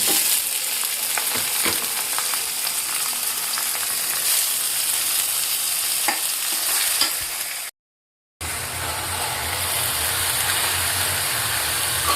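Leafy greens hit hot tempering oil and set off a loud, dense, continuous sizzle that hisses steadily, drops out for a moment, then resumes just as strongly.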